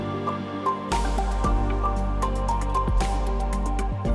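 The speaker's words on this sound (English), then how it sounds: "so I put the egg into the blue dye. Let it sit in there for a little bit. Stir it around." An egg dipped into a cup of blue dye water for an Easter craft and stirred around, giving soft close drips and liquid splashes over a steady background hum.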